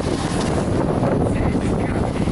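Strong tundra wind buffeting the microphone with a constant low rumbling roar, loud and close throughout, no voices.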